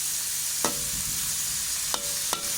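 Eggplant stir-fries in a pan with a steady hissing sizzle, crossed by three sharp scrapes and clanks of a spatula against the pan, close and without talk.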